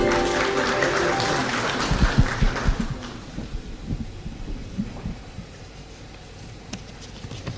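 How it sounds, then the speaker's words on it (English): A crowd at a strategic plan launch in a Nairobi hotel claps loudly at first, then the applause thins and fades into scattered claps. "Big round of applause, please."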